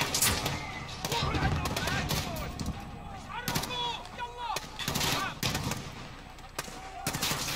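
Game gunfire from the realism mission of Modern Warfare (2019) crackles in bursts and sharp single shots through the whole stretch, mixed with combat noise and someone talking over it.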